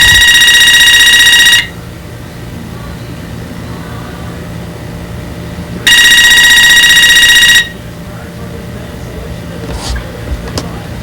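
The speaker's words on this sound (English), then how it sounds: "Good time for the phone to ring." An indoor telephone rings in two long electronic bursts separated by a few seconds of quiet room hum, loud and close.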